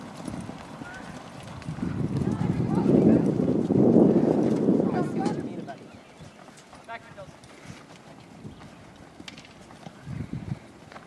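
Hooves of a ridden horse clip-clopping during a riding lesson, a swelling rumble of hoofbeats that peaks then fades to scattered steps, with a voice coaching over it.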